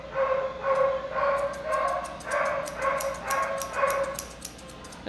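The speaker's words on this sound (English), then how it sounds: "That dog you hear in the background" A golden doodle dog barks repeatedly in the background, a regular series of moderately loud barks with short gaps, heard alone without talk.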